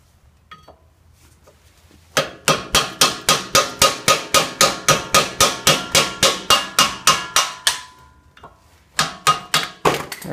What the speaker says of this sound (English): And a small hammer.